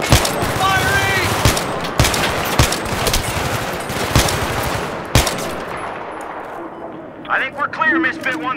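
Gunfire in the Battlefield 3 game during the Operation Swordbreaker mission: sharp, loud shots at irregular intervals over a dense battle rumble, fading out before squad voices talk at the end.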